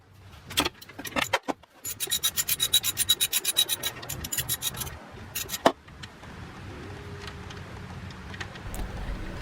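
A nut is worked off a Honda Accord/CR-V 2.4L alternator with a ratchet, giving a rapid run of close, rasping clicks followed by a few sharp metallic knocks.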